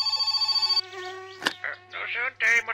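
A telephone rings in the My Summer Car game, a close, buzzy trilling ring for under a second, followed by a voice talking.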